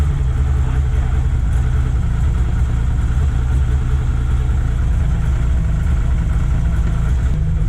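A 1974 BMW 3.0 CS E9 engine, started for the first time in 15 years, idles with a loud, steady low rumble up close, misfiring roughly throughout.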